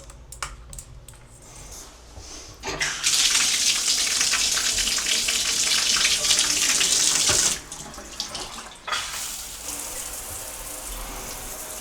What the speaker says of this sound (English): And this will be the rain shower head.